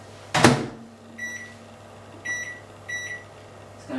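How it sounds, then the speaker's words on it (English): A microwave oven melting butter for raspberry granola bars, opening with a sharp door clunk, then a low steady hum broken by three short electronic beeps, no talking. "Just going to melt it in the microwave there."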